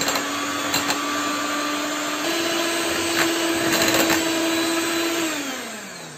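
Cream and milk whisked together with an electric mixer, a close, steady motor whine that shifts pitch partway through and winds down near the end, with no talking.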